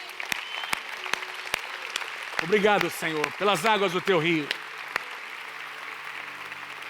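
A church congregation applauds at an evening service, a broad wash of clapping that rises as a voice sings or speaks over it through the middle, then fades back to scattered claps.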